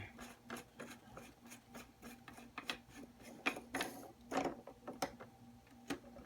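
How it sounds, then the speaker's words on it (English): Plastic plumbing union on an aquarium filter being unscrewed by hand, giving quiet, close rasping and grinding scrapes in a steady uneven rhythm with a few louder creaks partway through. "I'm going to attempt to unscrew the union one-handed here."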